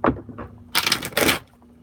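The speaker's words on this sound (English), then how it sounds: "I'm just going to kind of just jump straight into it after I get done shuffling" A few soft taps, then two quick riffling bursts of tarot cards being shuffled, close and brief.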